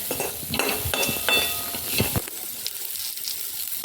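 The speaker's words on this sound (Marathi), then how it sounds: "त्याकरता मटर फ्राय करून घ्यायचं" Green peas fry in a pan for matar kachori, with a soft sizzle and scraping stirs and clinks of a utensil against the pan over the first two seconds, then a quieter, thinner crackle.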